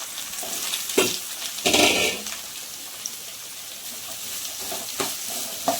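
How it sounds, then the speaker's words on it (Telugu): Carrot and capsicum stir-fry in a pan, giving a steady close sizzle with occasional scraping stir strokes and small clatters, and no talk. "వేగాక క్యారెట్ క్యాప్సికమ్ వేసేసుకున్నామండి"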